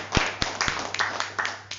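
Scattered audience clapping at an indoor presentation, a few sharp separate claps followed by a brief, thin patter of hands.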